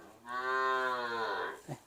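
A cow moos once, long and loud with a rich harmonic tone, at a cattle and buffalo market in Tak province, Thailand, ending in a short grunt.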